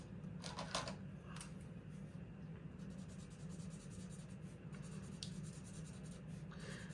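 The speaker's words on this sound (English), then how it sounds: "because these markers will tear right through this paper" Markers scratch across thin printer paper in close, quiet strokes, with short bursts of squeaky scribbling over a low steady background hum.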